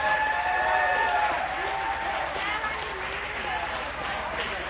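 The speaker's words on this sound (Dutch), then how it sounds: "Een dikke applaus voor die gasten." A crowd at a club jubilee celebration applauds the committee and about a hundred volunteers, steady massed clapping and faint cheering heard from a distance in a reverberant hall.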